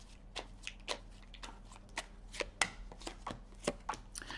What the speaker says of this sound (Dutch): Ik zal de kaarten schudden om te kijken wat week 44 voor de stier gaat brengen.